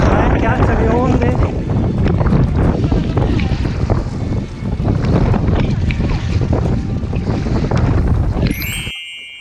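Gusting wind and choppy waves surround a kayak on the lake between Piona and Colico, loud steady buffeting and splashing with voices talking over it, cutting off abruptly at the end.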